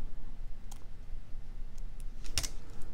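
Small scissors snip the leftover cord tails on a handmade starfish bracelet, giving a couple of faint, quick clicks near the middle over a soft background hiss.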